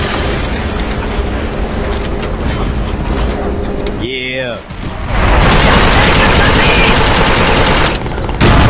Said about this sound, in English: I'm oh, getting hit with artillery right now.